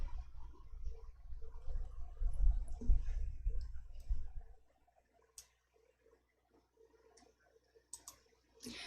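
A computer mouse clicks to confirm dialog buttons: a few sharp, isolated clicks in near silence, following a few seconds of low, rumbling background noise.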